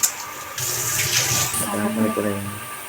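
Water running from a kitchen sink tap while a cleaned surface is rinsed, a loud steady splashing stream that starts after a brief clatter and carries on to the end.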